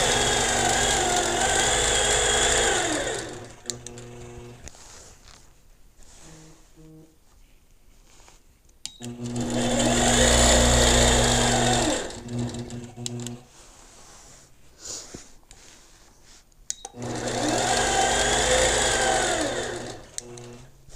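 A sewing machine stitches freeform quilting in three separate runs of rapid, even mechanical chatter, with quieter pauses between them that hold faint handling clicks.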